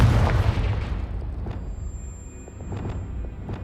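A Confringo blasting spell goes off in Hogwarts Legacy on PC, a deep booming explosion that opens loud and then decays into a rumbling tail, with a few faint crackling pops following.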